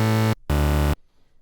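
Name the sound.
synthesizer psytrance preset with two saw wavetables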